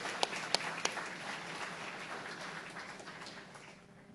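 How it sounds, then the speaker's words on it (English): Applause from an audience at a meritorious awards ceremony. It is fairly faint and steady, opens with a few sharp claps, then thins out and fades over about four seconds. "Let's give them a round of applause."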